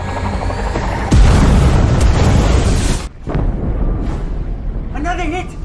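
A loud, booming explosion as an enemy convoy ship is struck by submarine fire in a war film, with a heavy blast rolling on for seconds before dropping off, followed by lingering rumble and a brief tonal signal near the end.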